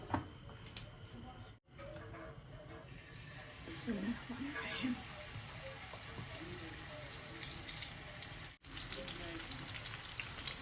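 Food sizzles in hot oil in a pan with a steady, moderate crackle throughout, and a voice talks faintly underneath.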